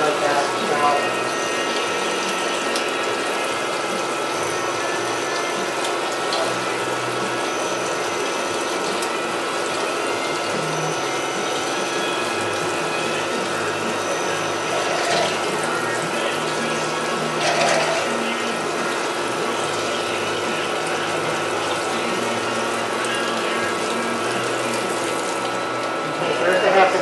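A milling machine drills a half-inch starter hole in a Jeep part, giving a steady continuous mechanical whir with coolant-like hiss throughout, close and loud.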